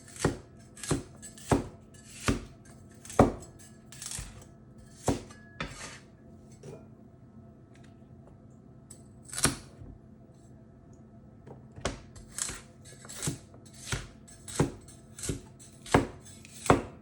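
A knife chops celery on a cutting board in crisp, steady strikes, a quiet pause midway, then the rhythmic chopping resumes and quickens, close up with no talking.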